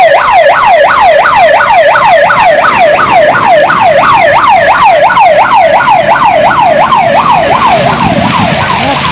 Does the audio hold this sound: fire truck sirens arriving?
yes